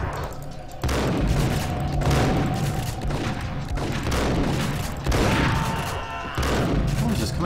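Gunfire in Max Payne comes in loud, heavy bursts of rapid shots with booming impacts, pausing briefly between volleys.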